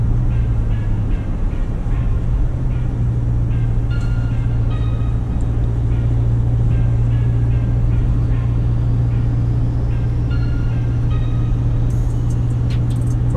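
A 2019 Ford Ranger pickup cruising on a road test, its low steady engine and road rumble droning continuously from inside the cab, with faint higher tones drifting in the background.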